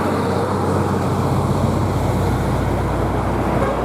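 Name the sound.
traffic noise in Bali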